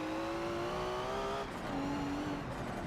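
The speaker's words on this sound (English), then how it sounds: "The Nissan Safari with the crazy Nissan engine" A Nissan Safari Superlight with a swapped Nissan engine in Forza Motorsport 7 holds a loud, steady engine drone that rises in pitch, drops at a gear change and climbs again, with no voices.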